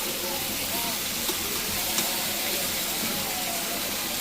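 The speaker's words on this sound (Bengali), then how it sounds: "লাউটা নেড়ে চেড়ে মিলাই নিচ্ছি মশলার সাথে।" Chopped bottle gourd frying with spices in a hot pan, giving a steady, close sizzle and hiss with faint scraping from stirring throughout.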